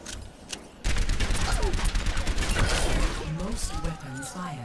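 Rapid weapon fire at training bots in Overwatch, a dense continuous burst of shots starting abruptly and lasting a few seconds with mechanical clicks, then tapering off to scattered sounds.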